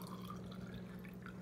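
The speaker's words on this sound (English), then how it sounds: "I'm going to add some water to it. This is just straight tap water." Tap water being poured into a portable hydrogen water bottle, a soft steady trickle and drip of filling liquid, close and quiet, with no voices.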